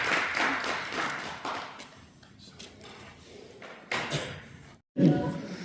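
Audience applause at a community event, a scatter of claps and thuds that fades out, with talk and a brief silence before a voice resumes.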